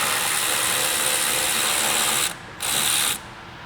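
Ratchet clicking rapidly and continuously on 13mm hangers under a Ford Mustang S550, loosening the exhaust hangers; steady close mechanical buzz that halts briefly twice near the end.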